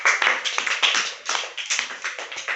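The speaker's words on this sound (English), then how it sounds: "Clap." Students clapping together in a seventh-grade science class, a run of quick, uneven claps close by with no talking.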